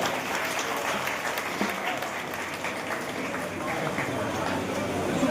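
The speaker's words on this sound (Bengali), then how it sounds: "আচ্ছা, সকলে করতালি দেবেন। Big hand." An audience at an outdoor World Indigenous Day celebration in Memari claps steadily throughout, a dense continuous applause with a voice speaking over it.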